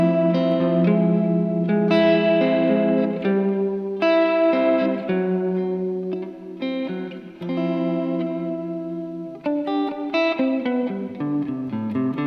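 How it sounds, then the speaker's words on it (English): Sustained electric guitar chords ring through a reverb pedal set to its heavy mode on a Rockboard pedalboard, giving a loud, lush wash that carries from one chord change to the next. "I turned it to heavy there. Such a beautiful reverb."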